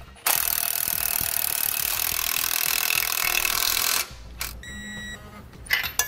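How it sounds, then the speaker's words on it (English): A tool tightening the U-bolts around a truck's leaf spring pack while Air Lift LoadLifter 7500 XL Ultimate air helper springs are mounted. A loud, steady rasping, whirring run of about four seconds, then brief softer clicks and rattles. "Now we'll get both of these torqued to the specifications in our instructions."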